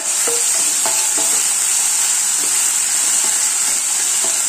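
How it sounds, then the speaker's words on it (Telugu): Ginger garlic paste fries in hot oil in a tempering of urad dal, mustard seeds, dried red chillies and curry leaves for dal tadka. A loud, steady sizzle runs close throughout, with light stirring scrapes and no voices. "జింజర్ గార్లిక్ పేస్ట్ బాగా వేగనిచ్చి"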